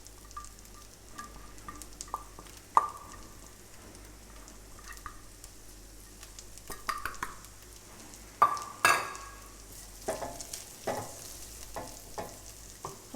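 Vegetables stir-frying in a pan with garlic and ginger, a quiet sizzle broken by irregular scrapes and clicks of stirring, with no one talking.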